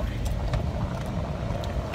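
Car air conditioning blowing steadily inside a parked car's cabin, a constant broadband whoosh with low rumble throughout, with faint background voices now and then.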